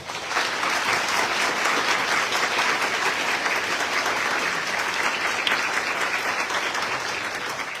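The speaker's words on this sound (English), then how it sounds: "please give them a round of applause" A town hall audience gives a sustained, dense round of applause for law enforcement officers and deputies, loud and steady throughout.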